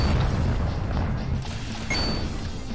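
A deep, booming video game explosion rumbles steadily for a few seconds, with a second crash-like burst partway through.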